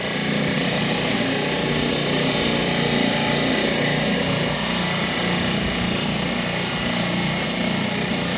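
A powered saw cuts through a fluorite crystal with a loud, steady, close grinding whine that holds unbroken and even throughout.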